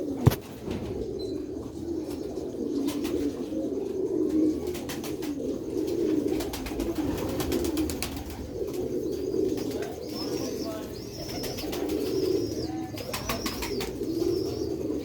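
Domestic breeder pigeons coo in repeated soft, low, rolling phrases, close by, with occasional higher chirps and brief wing flutters among them.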